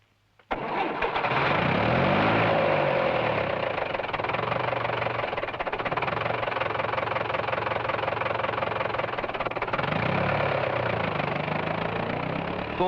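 A tractor engine runs steadily and loud while planting soya beans, its throbbing drone holding level throughout with a few deeper, wavering tonal swells partway through.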